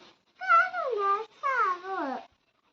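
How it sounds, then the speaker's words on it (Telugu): A kitten gives two clear, drawn-out meows in quick succession, close and fairly loud against a quiet background. "పిల్లి పిల్ల, నడవాలి నడవాలి."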